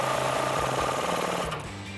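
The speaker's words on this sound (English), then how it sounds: "we can tighten it up with a 24mm socket" Steady mechanical whirring and rapid ratcheting from a socket wrench tightening a 24mm factory castle nut on a ball joint taper on a 2007-2021 Toyota Tundra, close and continuous, easing slightly near the end.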